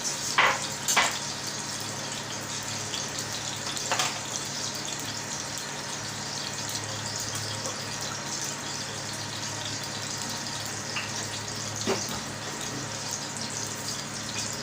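Oil and ghee pour into a pan for béchamel pasta, a continuous soft gushing, hissing liquid sound with a few light clinks, steady and close throughout.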